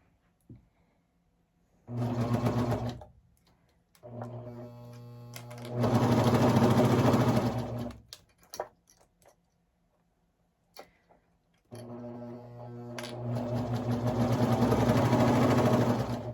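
A sewing machine stitches baby leggings in three bursts of rapid, steady mechanical whirring, close and clear, separated by quiet pauses with small clicks as the fabric is repositioned.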